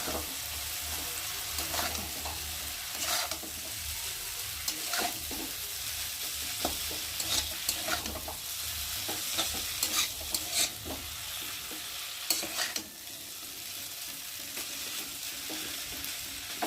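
Maggi noodles with chili chicken are stirred in a hot pan, a steady soft sizzle with repeated scraping strokes of the spatula throughout.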